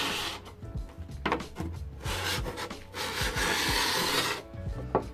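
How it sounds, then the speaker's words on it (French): Steel file stroked along the metal edge of a snowboard, producing repeated close, harsh rasping scrapes in an uneven rhythm with no speech. "vous pouvez entendre, je suis littéralement en train d'enlever du métal sur la carte"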